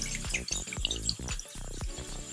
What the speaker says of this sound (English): I'll do this underneath running water to make sure I get clean water into it to get all of the soap out of my brushes